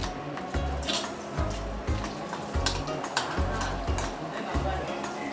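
Ragi sandige, sun-dried finger-millet fritters, fry in hot oil with a bubbling sizzle, broken by rhythmic low scraping and clinks of a stirring spoon against the pan; a voice talks at times.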